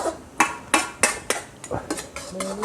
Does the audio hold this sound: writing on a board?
no